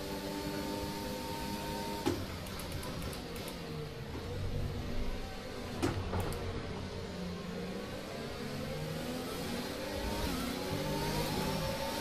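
Several F1 2021 racing car engines rev together at a restart, a continuous high whine with pitch sweeping up and down as cars accelerate and shift, loud and steady with a couple of sharp knocks.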